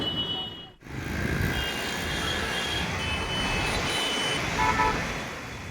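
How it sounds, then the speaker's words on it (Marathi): Continuous roar of heavy city road traffic in Pune, engines rumbling and passing vehicles blending into a constant drone, with a faint beep toward the end. "सर्वत्र वाहने आणि वाहनांचा कर्कश आवाज ऐकायला मिळतो"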